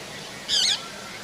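A single short, sharp squawk rings out from a parrot in an aviary, bright and fairly close against a faint background hiss.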